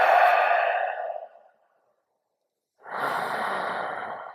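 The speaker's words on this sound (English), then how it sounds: "Inhale. Super full. Exhale." Deep conscious breathing: one long, full exhale fading out, a pause of silence, then a strong, steady airy inhale, close and clear with no talk.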